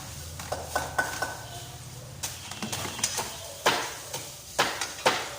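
Garlic and onion for lumpiang sariwa hit a pan with scattered clinks and utensil scrapes over a faint background sizzle, close by and without speech.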